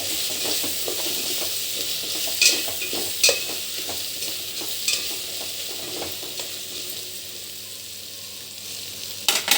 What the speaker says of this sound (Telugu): మరి కొద్దిసేపు వేగనివ్వాలి.